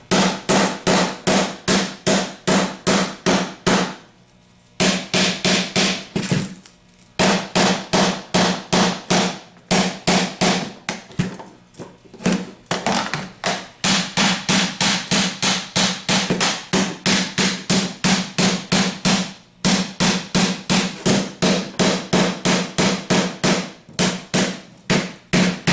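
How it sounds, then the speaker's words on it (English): A hammer taps on the side of a heated 3G alternator housing during a rebuild. The strikes are loud, rapid and sharp, coming in steady bursts with short pauses between them. "then start tapping on the sides"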